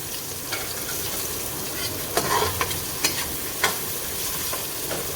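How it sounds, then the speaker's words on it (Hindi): Chopped medium onion frying in oil in a pot, a continuous close hiss of sizzling broken by several scraping stir strokes and clinks of the spoon against the metal, with no voices. "ये दरमियाने साइज़ का एक प्याज है जो मैंने पहले से काट के रखा हुआ था। वो अब मैं इसके अंदर डाल के तो फ्राई कर रही हूँ।"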